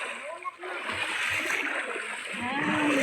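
Water splashes and sloshes as people bathe in a river, close and continuous, with voices talking and calling out over the splashing.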